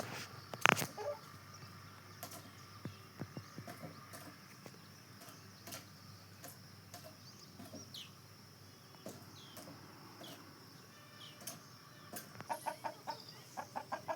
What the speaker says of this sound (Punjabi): ਉਹ ਫਿਰਦੇ ਆਪਣੇ ਮੁਰਗੇ